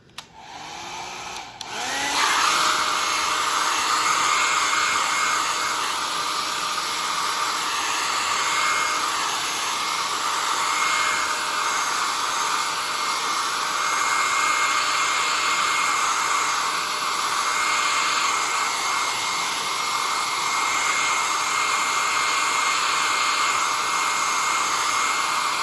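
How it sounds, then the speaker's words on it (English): A hair dryer drying a painting clicks on after a brief pause and then blows in a loud, steady, high whir that holds unchanged to the end. "I'm going to use a hairdryer and we get it dried."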